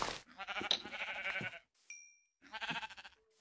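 Sheep in Minecraft let out two long wavering bleats, close and clear, separated by a short gap with a brief chime between them.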